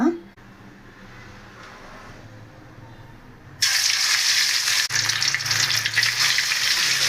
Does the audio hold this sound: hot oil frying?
yes